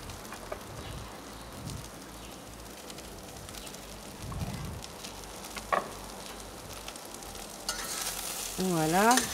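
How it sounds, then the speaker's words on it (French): Vegetables with fennel sautéing in a pan over high heat, a steady close sizzle with stirring scrapes and a few clunks, the frying swelling louder toward the end, no talking. "on fait bien saisir tous ces légumes. On les fait bien revenir."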